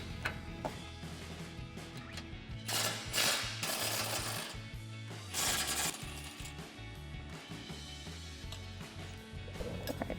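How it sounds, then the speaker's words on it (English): A ratchet with a 21mm socket works bolts loose on a Jeep Wrangler JL rear bumper, giving bursts of metallic clicking and clinking close by, louder in two stretches. "So I'm gonna take that 21mm socket, remove those side bolts, and then we'll remove the bottom bolts."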